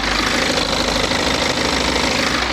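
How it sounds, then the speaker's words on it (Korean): Close-up rumble of a 2017 BMW 3 Series diesel engine idling under an open hood, a steady, loud clattering drone with even knock throughout and no talk. "영상에서 듣는 것처럼 디젤 엔진이라 어느 정도 소음은 있지만"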